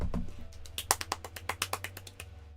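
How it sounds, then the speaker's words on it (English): Hands clap in a quick, uneven run of sharp, close taps during a chat about the game Wario Land 4, fading out toward the end. "Look, that was my hands, okay? I was clapping."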